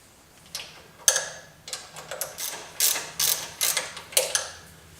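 A ratchet loosens bolts on a BSA Rocket 3 motorcycle engine, giving close, crisp bursts of rapid clicking in short irregular strokes, some quick and some drawn out, with brief pauses between them.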